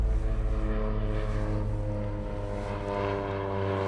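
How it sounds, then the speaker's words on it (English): A propeller seaplane drones steadily overhead near Sydney Olympic Park, its loud, throbbing engine tone filling the air and slowly wavering as it passes, with no voices heard. "There's just a seaplane."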